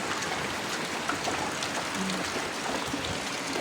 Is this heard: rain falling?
yes